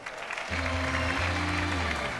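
Applause from a singing-show audience fills the space, steady and moderately loud, with low music-like tones running beneath it from halfway through.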